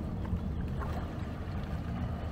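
A 2021 Yamaha VX1800 HO jet ski engine runs on the water with a steady low rumble that swells slightly as the throttle is opened, continuous for the whole stretch with no talk.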